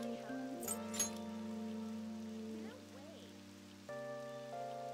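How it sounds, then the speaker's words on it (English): Soft rain ambience in the video game Persona 5 Royal, a faint steady patter under tonal background music with shifting sustained notes. "Because it's raining."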